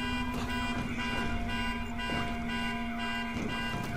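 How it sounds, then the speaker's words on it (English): An alarm blares steadily throughout a scene in the zombie video game Deadlight, a sustained electronic tone with faint pulsing underneath, loud and continuous. "Oh, there's the alarm."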